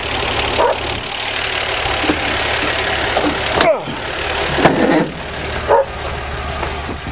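A 1977 Dodge van engine runs with a steady, rough idle rumble, close and fairly loud, with a few brief bumps and a dog barking now and then, while people talk nearby.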